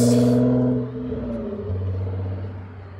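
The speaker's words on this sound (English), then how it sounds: "he over here about to speed just to show me that his car can move fast" A car speeding off nearby, its engine giving a steady low rumbling roar that drops briefly and then swells again as it accelerates, with a short high hiss at the start and no talking.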